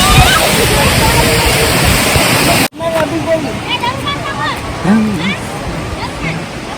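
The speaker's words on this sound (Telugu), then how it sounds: "మన తెలంగాణలో అతిపెద్ద వాటర్ ఫాల్ అంటే ఇదే" Kuntala waterfall in Telangana roars loudly and continuously as a dense wash of falling water, with people talking nearby over the rush.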